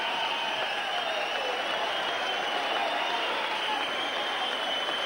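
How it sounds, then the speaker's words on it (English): A boxing crowd rises in a standing ovation, with a dense, continuous wash of applause and cheering that holds steady and loud throughout. "And both fighters to a standing ovation"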